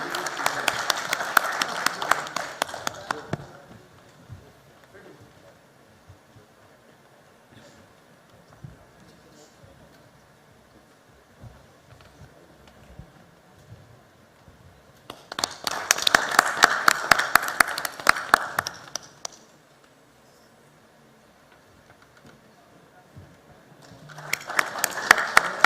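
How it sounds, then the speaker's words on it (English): Audience applause at an Indian forest service and wildlife conservation awards ceremony comes in three separate bursts of lively clapping, with long, nearly quiet stretches between them. "Please give him a huge round of applause,"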